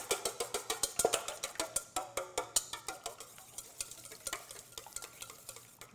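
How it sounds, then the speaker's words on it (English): A whisk beats an egg in a bowl with quick, regular clinking taps against the sides, close and continuous, settling into a steady rapid rhythm. "We're going to crack an egg in our bowl. Going to whisk that up."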